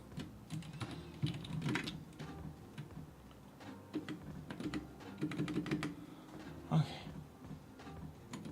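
Typing on a computer keyboard, with soft irregular key clicks and taps in quick bursts, fairly close and quiet over a faint background.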